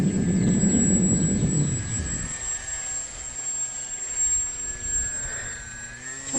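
A small airplane on its first spring flight drones overhead with a steady, sustained engine tone and a whining high hum, loud at first with a low rumble that fades after a couple of seconds.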